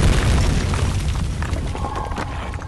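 A deep, rumbling explosion in the video game Amnesia: The Dark Descent booms and then slowly decays into a lingering roar, with some crackling debris toward the end.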